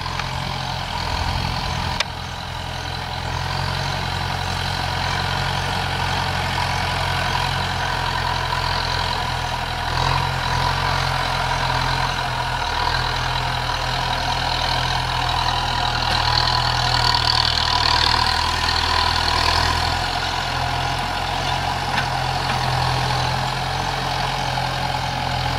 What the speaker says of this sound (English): now I can tell that tractor's having a little bit of trouble disking this because it's so muddy